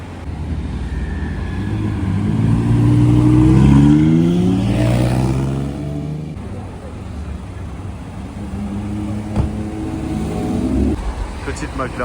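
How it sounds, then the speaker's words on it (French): A McLaren GT sports car in camo green rolls past on a Monaco street, its engine swelling loud and near, peaking mid-pass, then fading as other traffic and distant vehicles carry on. "McLaren GT là en vert camo. Magnifique."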